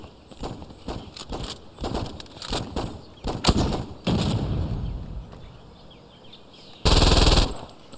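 An AR-50 assault rifle in Saints Row 2 fires in short, loud, close bursts of rapid shots, separated by brief pauses, ending in a harsh, bright blast near the end.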